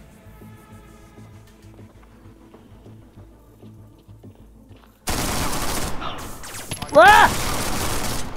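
Dense bursts of gunfire erupt loud and close in the VR shooter Wanted Killer, a sudden sustained volley after a quieter stretch, with a brief shouted word over the shots.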